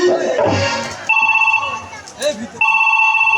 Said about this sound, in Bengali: এই সময় ফোন এই দেখো মা ফোন করেছি